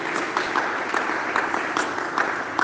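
A church congregation applauding the Lord during a worship service, a steady wash of clapping from many hands at a moderate distance, continuous and even for a short stretch.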